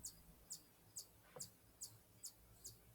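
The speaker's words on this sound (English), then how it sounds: "Can you hear the bird chirping outside?" Bird outside a closed window chirping in a steady series of seven short, high, sharp notes, faint and distant through the glass.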